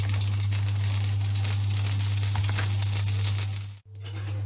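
Fusilli pasta with chorizo, chickpeas and Mediterranean vegetables is stirred in a frying pan, giving a steady loud sizzle with light scraping and rattling, then a brief drop to near silence at the end.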